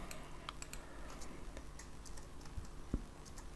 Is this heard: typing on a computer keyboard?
yes